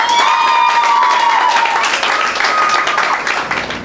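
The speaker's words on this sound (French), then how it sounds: "Applaudissez encore." Audience applause at a graduation ceremony, a dense wash of many hands clapping that stays loud throughout and fades slightly toward the end, with a voice briefly heard over it.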